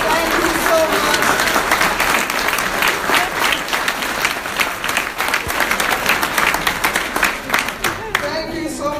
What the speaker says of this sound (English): could you all rise and give my husband a big round of applause?